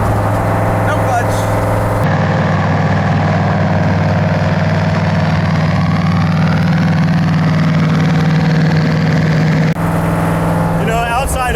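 Dodge Daytona wing car, old and rusty, idling with a loud, rough, steady low rumble heard close up; brief voices and handling noises come at the start and end.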